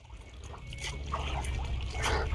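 Jhelum river water flows steadily after the Mangla Dam was opened, a low continuous rush with a faint trickle, steady and moderately near, rising slightly toward the end.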